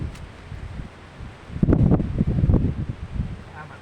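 Strong seaside wind buffets the microphone in rough, gusty bursts, building to a loud rumbling swell mid-way and then easing off in uneven pulses.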